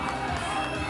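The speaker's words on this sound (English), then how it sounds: "And here's McAleese getting that crowd going." A packed crowd of travelling supporters at a Cyclone fight night roars steadily through a brief moment, with mixed shouting voices forming a continuous wash of cheering.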